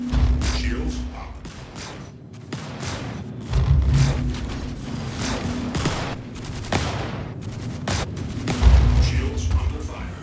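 Weapon fire strikes a ship's shields in the space game Star Citizen during a solo bounty mission. Loud, dense bursts of gunfire and booms keep going without a break, with low impacts rising and falling over about ten seconds.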